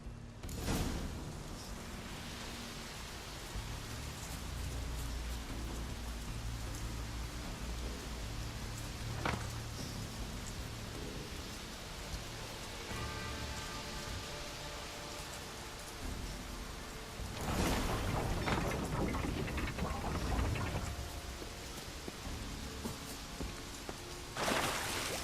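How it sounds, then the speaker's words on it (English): Steady rain falling in The Witcher 3: Wild Hunt, a soft continuous wash of drops with a low rumble beneath and a few louder bursts partway through, with no voices over it. "Looks like rain."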